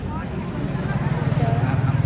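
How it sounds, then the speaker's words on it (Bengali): A trawler boat passing on a river gives a low, pulsing engine rumble that grows slightly louder and more rhythmic, heard at moderate distance under some breathing or faint voice. "একটা ট্রলার যাচ্ছে"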